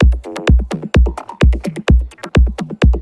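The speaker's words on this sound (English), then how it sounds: "we have a really full glitch percussion loop" A dense minimal tech house glitch percussion loop plays alone, with punchy low kicks on a steady four-beat pulse and clipped, stuttering metallic ticks and tonal blips filling the gaps between them.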